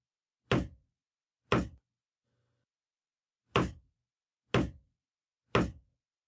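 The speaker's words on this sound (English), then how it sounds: "What's that knocking? Do you hear it? Knock, knock, knock. 3 times, then a pause, and then again. It has a hollow sound," Hollow, evenly spaced knocks sound alone against silence: two knocks, a pause, then three more. Each one is a short, dull thud with a quick decay.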